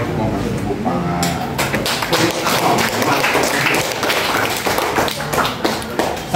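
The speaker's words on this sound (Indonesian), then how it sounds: "buat mau kasih tepuk tangan." Classroom applause during a lesson observation, a dense run of overlapping hand claps and taps that carries steadily and loudly through the clip with voices mixed in.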